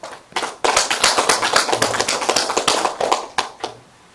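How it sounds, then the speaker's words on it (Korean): A small audience claps to congratulate a poet on publishing twelve collections: sharp individual hand claps, close and uneven, rising quickly into a lively patter and then thinning to a few last claps. "다시 한번 이 12권에 대한 축하의 박수를 한번 부탁드리겠습니다."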